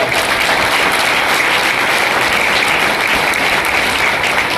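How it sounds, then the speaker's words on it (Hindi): Loud, continuous clapping from an audience at a business plan presentation event in Kandivali, saluting a diamond leader, dense and unbroken from start to finish. "एक जोरदार ताली हो"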